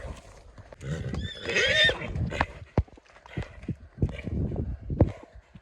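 A stallion neighs loudly up close, a shrill whinny, followed by snorts and hooves shuffling, with brief voices in the background.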